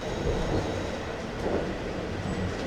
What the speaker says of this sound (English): Here's our train.